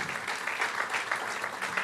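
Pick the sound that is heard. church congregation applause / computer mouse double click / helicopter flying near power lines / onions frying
church congregation applause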